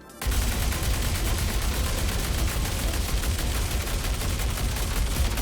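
Fresnel Volt LMG in Star Citizen fires continuously after a brief silent moment, a loud, dense stream of rapid shots pushed toward overheating, with no talking.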